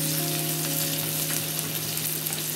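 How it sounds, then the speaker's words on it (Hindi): Finely chopped onion frying in hot oil, a bright, steady sizzle with a close, continuous crackle and no talking. "थोड़ा सा प्याज है उसको मैंने बारीक चॉप करके रखी वो भी डालेंगे।"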